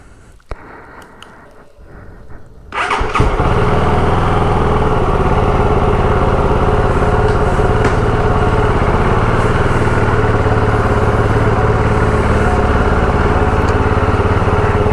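A restored small motorcycle fires up after a few quiet seconds of handling noise, then settles into a loud, steady, close-up run with buzzing induction and exhaust throughout, and no talking.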